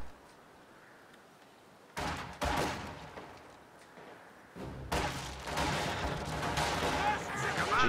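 Video game battle with G43 rifle fire and incoming mortar fire: quiet at first, then sudden bursts of sharp shots and heavy thuds that grow into a dense, continuing barrage.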